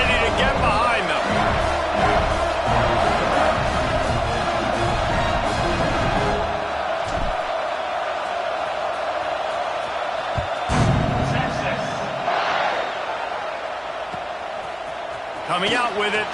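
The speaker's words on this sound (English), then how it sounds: "this crowd now ready to get behind them" Stadium crowd cheering at a Texas vs Miami football game before a kickoff, a broad roar of noise that stays under steady commentary throughout and swells near the end.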